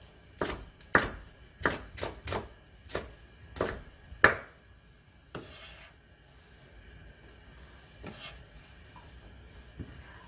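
A knife chops Cheongyang chili peppers on a cutting board for a Korean pollock stew, about eight crisp, fairly loud strikes in an uneven rhythm over the first few seconds, then a quieter stretch with faint scattered taps.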